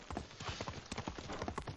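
Horse hooves clip-clop at a steady trot in the samurai game Ghost of Tsushima, a rapid, even run of hollow thuds close by with a faint background wash and no talking.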